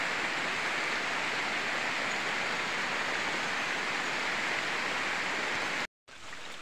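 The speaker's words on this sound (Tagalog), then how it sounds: "lakas ng ulan." A steady roar of heavy rain in a tropical outdoor setting fills nearly the whole stretch, then stops briefly in a sudden gap near the end before resuming.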